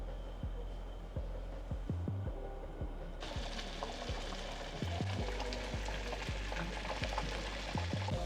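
Four sausage links frying on medium heat in a pan, a steady dense sizzle with crackling and spitting that grows louder partway through, close and continuous, with light clicks of utensils against the pan.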